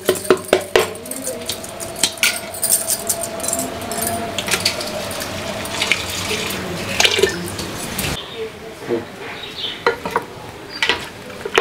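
A bowl of sago batter is mixed by hand for sago vadiyalu, with wet sloshing and spoon clinks against the bowl close up, followed by lighter scattered taps and drips.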